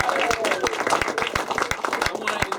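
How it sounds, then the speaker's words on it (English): An audience on a talk show applauds a departing guest, with sharp, rapid claps over a steady crowd wash throughout. "Give her that applause."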